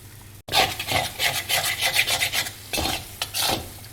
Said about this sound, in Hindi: आप बेसन को लगातार ऊपर से नीचे चलाते हुए देखें।